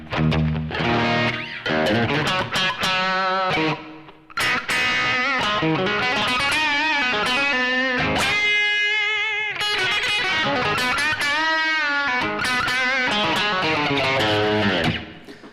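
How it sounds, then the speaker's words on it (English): An electric guitar plays through a distorted Marshall amp tone, loud and continuous, with thick sustained chords and a brief drop around four seconds before it comes back in. "Let's maybe put in some Marshall tones."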